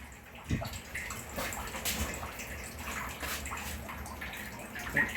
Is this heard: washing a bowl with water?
yes